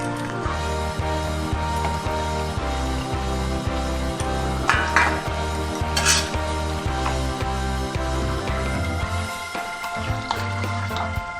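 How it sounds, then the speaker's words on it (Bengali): A spoon stirs and scrapes through a vegetarian yam and potato curry in a pan, a steady rhythmic clinking over an ongoing background hum, fairly close and without talk. "খুব ভালো করে মিশিয়ে নিচ্ছি।"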